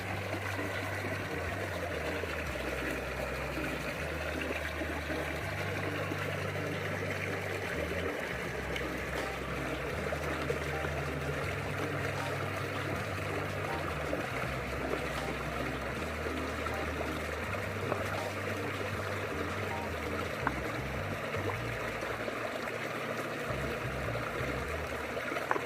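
A Traxxas TRX4M Defender 90 RC truck drives through water, a steady low trickling and splashing wash that runs continuously for the whole stretch at moderate, even loudness.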